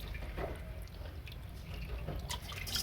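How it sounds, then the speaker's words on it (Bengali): Water poured over a Shiva idol during a ritual bath, a soft continuous trickle and splashing with faint drips, close and quiet. "এবার ভালো করে জল দিয়ে স্নান করিয়ে দেবো বাবাকে।"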